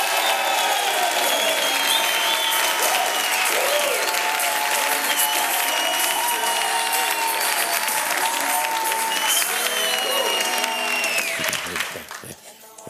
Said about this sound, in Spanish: Otro aplauso para Mercedes Brito.